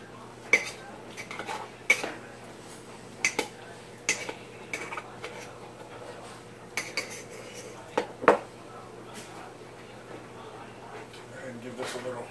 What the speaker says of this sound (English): Give this a little stir. Break up that butter.